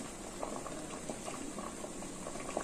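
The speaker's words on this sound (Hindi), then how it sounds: "अभी अच्छा से बॉयल हो रहे हैं" A pot of Kerala-style sambar boils at a gentle, continuous bubble, with quiet popping blips rising close by and no voices.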